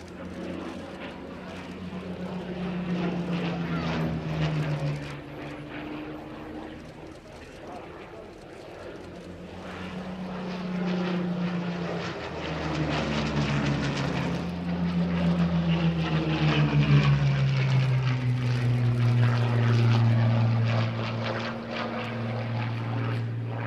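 A historic propeller fighter from the Duxford collection flies past at the Zhukovsky airshow for the 100th anniversary of the Russian air force, its engine droning steadily and shifting in pitch, with a commentator talking over it throughout.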